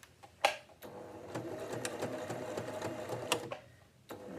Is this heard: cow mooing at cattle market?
no